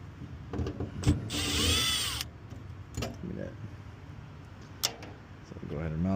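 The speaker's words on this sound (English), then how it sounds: "I'm gonna drill it." Power drill whirring for about a second while working on a Daikin packaged HVAC unit, a close, steady burst, with a few knocks and clicks around it and someone talking.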